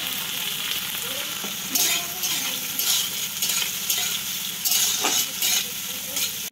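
Capsicum sizzles loudly in a hot pan with cashews and raisins in ghee, a constant close frying hiss broken by repeated stirring scrapes.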